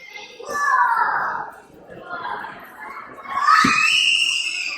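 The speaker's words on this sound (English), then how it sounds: "a kid screaming in the background because he's so excited because there's a sea turtle swimming" An excited child shrieks and squeals in high-pitched bursts beside a sea turtle exhibit at SeaWorld, the loudest screams coming toward the end amid other children's voices and crowd chatter.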